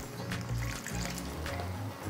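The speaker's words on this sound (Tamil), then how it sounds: "இதில் கொஞ்சமாக வெது வெதுன்னு இருக்க தண்ணி கொஞ்சம் சேர்த்துக்கலாம்." Lukewarm water pours into a pan of spinach kootu, a soft liquid trickle and splash close by with faint kitchen clatter, running steadily for a couple of seconds.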